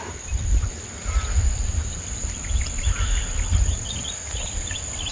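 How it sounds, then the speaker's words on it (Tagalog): Birds sing and crickets chirp outdoors on a cold morning, a steady high insect buzz over scattered faint bird calls, with low rumbling wind or background noise underneath. "Huni ng mga ibon,"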